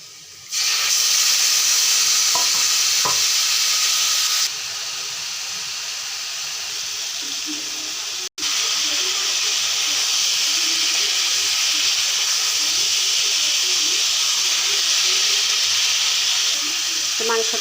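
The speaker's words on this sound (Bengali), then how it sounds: "এখন মাংসটা দিয়ে দেব আমি।" Pieces of meat go into a pan of fried onions, with a little sugar added earlier, and raise a loud, continuous sizzling hiss that runs steadily and breaks off only for a moment midway.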